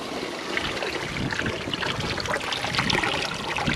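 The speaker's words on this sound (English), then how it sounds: "now it's draining out the 4-inch pipe" Water draining out of a 4-inch pipe in a gold-recovery setup being leak-tested, with a steady, close rushing trickle and splash that holds constant.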